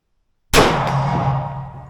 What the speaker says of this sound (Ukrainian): Другий патрон на 75 метрів в гонг.